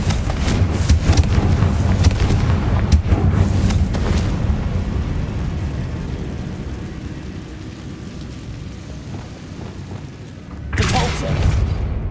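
Confringo blasting spell in Hogwarts Legacy sets off deep booming explosions, heavy at the start with several thuds, then a rumbling tail, and a fresh burst near the end; a voice speaks over the opening blasts.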